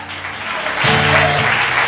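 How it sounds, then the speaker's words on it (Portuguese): A church congregation applauds loudly for the Lord during a prophetic service, broad clapping swelling midway and holding steady, with a faint musical tone underneath. "você pode aplaudir bem forte ao Senhor"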